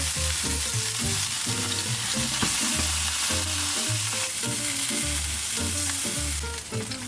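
Individual beef steaks for Beef Wellington sear on their edges in a hot pan, a continuous sizzle running under a prominent melodic music track.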